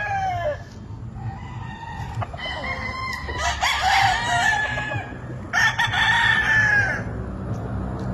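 A Pumpkin Sweater gamecock rooster crows several times nearby, with long rising calls, clucks and other fowl noises in between over a low background rumble.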